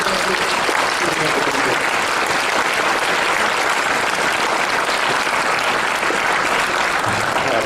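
A dinner audience at a gala gives an honoree a sustained round of applause, dense and steady from start to finish, filling the room at close range.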